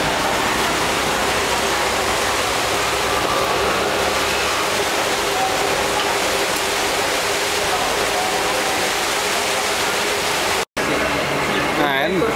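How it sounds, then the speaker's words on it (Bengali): Steady rain pours down during a trip to Sonargaon and Panam City, a dense, even hiss of falling water that fills the scene throughout, broken only by a brief dropout near the end. "সবাই ওয়েট করে আছি এবং বৃষ্টি শুরু হয়ে গেল"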